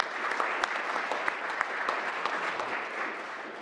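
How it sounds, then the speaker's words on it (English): Audience applause for sponsors at a user-group meeting, steady clapping from a crowd throughout, moderately loud and without talk. "please give a round of applause to our executive partners and our sponsors"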